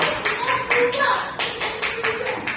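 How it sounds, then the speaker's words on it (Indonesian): Schoolchildren in an elementary classroom clapping hands in a quick rhythmic burst of sharp, close claps, with voices talking over them. "Ya benar ya. Tepuk tangan."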